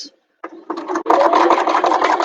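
A sewing machine stitches through a bag's lining seam allowance, starting with a few short bursts and then running steadily and close at a fast whirring pace.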